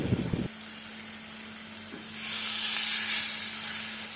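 Spiced shrimp being sautéed for a bhuna in a pan: a soft steady sizzle after a brief clatter, swelling into a louder, brighter frying hiss toward the end, with no voices.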